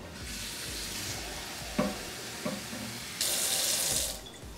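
Tap water runs briefly, then after a couple of soft knocks a louder stream pours for about a second, with background sizzling throughout.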